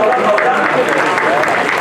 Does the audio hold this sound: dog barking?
no